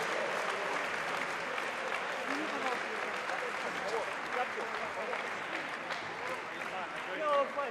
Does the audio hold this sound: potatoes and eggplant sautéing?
no